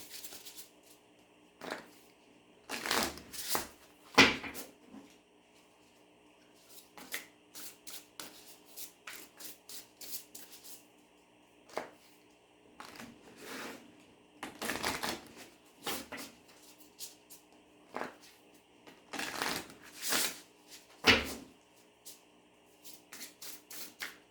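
An oracle card deck is shuffled by hand in repeated bursts of riffling and sliding cards, with short quiet gaps between them, close and fairly soft.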